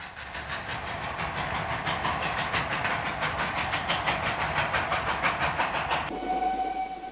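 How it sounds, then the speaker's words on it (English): A PT-47 series express steam locomotive runs through flat countryside near Wolsztyn in Poland. Its loud, rhythmic exhaust chuffs and steady rolling rail noise pass close by, then a sustained whistle tone sounds as the chuffing stops. "An express steam engine of the PT-47 series."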